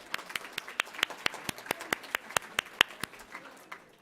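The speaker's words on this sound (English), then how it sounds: "Give us a big round of applause." A small audience at a Columbus Metropolitan Club luncheon claps in a brief, faint, evenly paced series of separate claps, steady for about three seconds before stopping.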